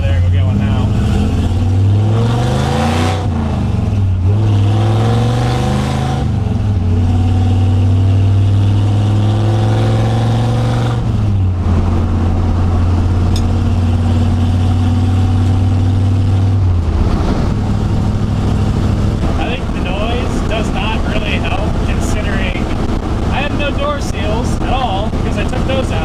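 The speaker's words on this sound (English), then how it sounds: "Bit of ticking, that's my exhaust leak" A Ford F100 with a Tremec 5-speed drives along with a leaking exhaust ticking, its engine humming and rising in pitch through the gears up close, while someone talks over it.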